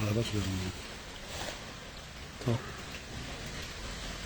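Rain falls steadily during flooding on a street in Liège, a soft continuous patter with a few louder splashes, while someone talks briefly at the start.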